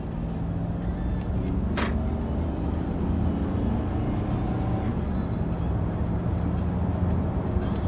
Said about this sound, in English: We'll accelerate. There she goes.